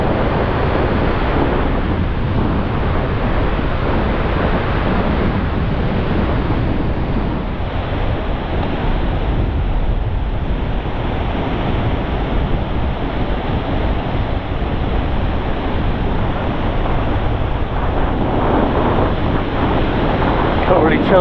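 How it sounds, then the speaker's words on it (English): Strong gusting wind buffeting the microphone over constant crashing surf on a Bristol Channel beach after a storm, a loud, unbroken roar that runs throughout. "Can't really tell from the rod tips, it's just so windy."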